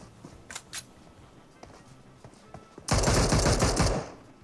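A rapid burst of Mini14 rifle fire in the game PUBG, loud and close, a tight volley lasting about a second and a half after a few quieter clicks and footsteps.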